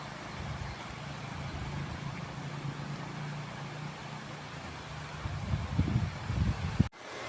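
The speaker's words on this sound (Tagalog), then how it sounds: "Maulan na, may sabay pang hangin." Rain with wind during wet weather in Albay, a continuous hiss and low rushing rumble that holds steady, swells slightly toward the end and is broken by one sharp thump.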